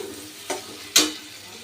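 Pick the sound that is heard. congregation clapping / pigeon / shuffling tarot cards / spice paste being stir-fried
spice paste being stir-fried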